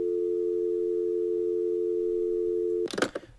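Steady telephone dial tone in a Nancy Drew video game after a call hangs up, a continuous tone held for nearly three seconds before cutting off into a short burst of clatter.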